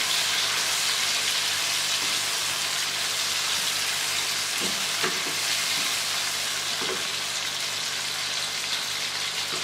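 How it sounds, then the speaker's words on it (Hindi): Chicken frying in tomato paste in a karahi for Afghani chicken karahi; a dense, even sizzle like steady rain, close and continuous, with a few soft stirring knocks around the middle. "5 मिनट तक भूनेंगे इसको"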